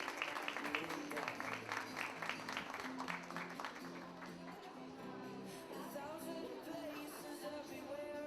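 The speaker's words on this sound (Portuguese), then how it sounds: "Uma salva de palmas para Priscila Sebe" An audience claps and cheers over music with sustained tones, the applause strongest early and thinning out as the music carries on.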